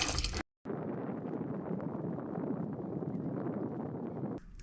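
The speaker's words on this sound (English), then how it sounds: "we have a salt water foot pump, and so we do kind of the rinse and initial clean with that" Salt water foot pump on a small sailboat at anchor in La Paz rinsing dishes, a steady, soft splashing flow of water running continuously, fairly close and quiet.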